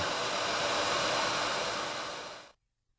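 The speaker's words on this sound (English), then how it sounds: "Dry using a hair dryer." A hair dryer blows steadily while drying hair after a wash, a loud, even whoosh of air that holds for a couple of seconds and then cuts off abruptly.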